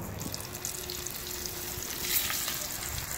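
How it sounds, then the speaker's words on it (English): Porgy fish, salted and coated in flour and seasoning, frying in hot oil, a continuous close, crackling sizzle with occasional louder pops, no talking. "And fry she up there. Fry pogies."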